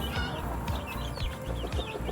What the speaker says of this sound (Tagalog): Meron tayong isang pasaway na manok.